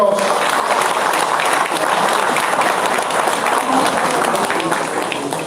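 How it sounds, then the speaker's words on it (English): Loud, dense applause from a large crowd honours the martyrs' families at a football final, continuous throughout with a slight fade at the end. "Let's give them a big applause."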